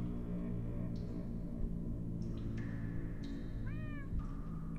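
Several cat meows from characters in Minecraft: Story Mode, scattered across a steady game soundscape with one clearer, rising meow near the end, no talking.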